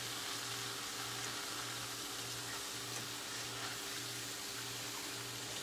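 Strips of chiacchiere, the Italian Carnevale fried pastry, sizzle and bubble steadily in hot oil, giving a constant close hiss with no talk and a low rhythmic hum pulsing underneath.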